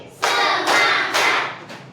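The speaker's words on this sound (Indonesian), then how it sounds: "Tepuk 3 kali." A class in a Catholic religious education lesson claps in unison three times, each clap a loud, broad burst spaced about half a second apart, followed by a faint stray clap.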